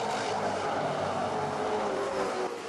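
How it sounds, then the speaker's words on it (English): A pack of booming muscle race cars roars at a race restart at Manfeild Raceway. The engine thunder is dense, loud and continuous, with no break. "So we're back to a restart situation for the Central muscle cars, the booming Central muscle cars."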